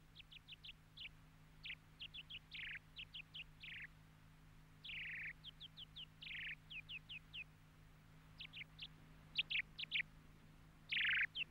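A songbird sings alone in a series of short, bright, high-pitched chirps and trills delivered in quick bursts with brief pauses, fairly close and clear over a faint low hum.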